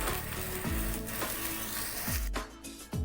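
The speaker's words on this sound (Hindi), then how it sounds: "अब हम इसकी साइड चेंज कर लेंगे और इस साइड से भी मज़ीद 5 मिनट और पकाएंगे।" Chicken shashlik sizzles steadily in a frying pan, with several soft knocks from pieces being moved or turned, heard close with no talk.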